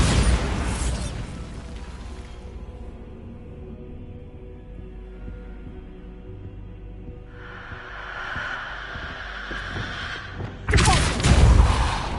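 A Bombarda spell in Hogwarts Legacy on PS4 sets off a deep booming blast at the start, followed by a rumbling decay, a mid-clip rushing swell and a second heavy burst near the end.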